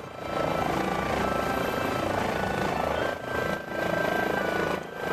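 An Airbus H145 helicopter in TOPR mountain rescue livery is heard from on board in flight, a loud continuous rotor and turbine roar with a steady whine and brief dips in level.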